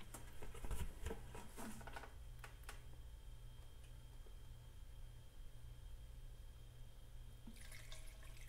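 Coolant draining from a Honda ADV 150 scooter into a bucket, a faint, steady trickling wash that runs the whole time, with a few light ticks and knocks near the start.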